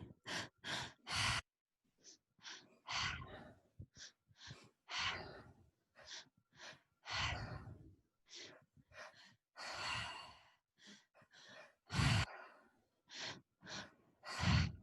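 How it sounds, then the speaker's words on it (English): Slow, deep breaths during a guided relaxation exercise, repeated inhales and long sighing exhales with short pauses between them, close and soft. "Taking a deep breath just to start and relax."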